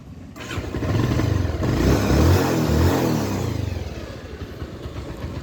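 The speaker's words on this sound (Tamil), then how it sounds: "வண்டி இன்ஜின் செல்ஃப் ஸ்டார்ட் பண்ணுறேன், பாருங்கள்." A Bajaj Pulsar 150 motorcycle engine cranks on its electric starter and catches, revs briefly, then settles into a steady idle, close and clear with no talking.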